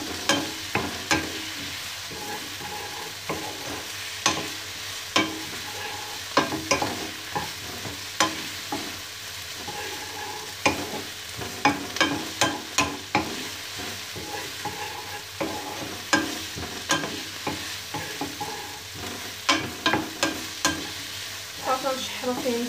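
Spaghetti in teriyaki sauce stir-fried in a wok, with steady sizzling and repeated sharp scraping and tossing clatters from a utensil against the metal, close and continuous.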